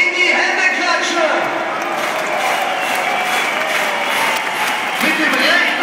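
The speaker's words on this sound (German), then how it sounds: "Und jetzt in die Hände klatschen!" Spectators at the finish of the 2011 BMW Frankfurt Marathon clap their hands in a loud, dense, continuous patter that holds steady for several seconds.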